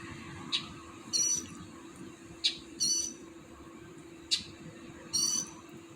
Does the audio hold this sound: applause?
no